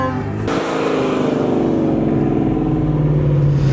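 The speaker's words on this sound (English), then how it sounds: "Downshift sounds so good." A loud Roush Mustang GT engine close by drops in pitch as it downshifts, the rumble shifting and then settling into a deep, steady drone.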